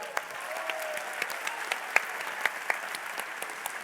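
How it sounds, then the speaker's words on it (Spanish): Audience applause breaks out at a university campus event in Mexico, a steady wash of clapping with a few sharp individual claps standing out, moderately distant and unbroken by talk. "un aplauso por favor"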